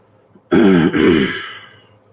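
A single loud, close throat clearing lasting about a second, with a brief hitch midway and a fading tail, from a person on a live stream, otherwise quiet around it.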